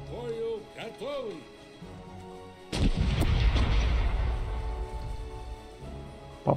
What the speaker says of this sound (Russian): Пушки по левому борту в бою готовы.